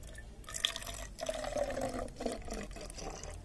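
Water is poured into a container holding Fevicol glue, a soft splashing trickle with a few drips, close and quiet, with no talking.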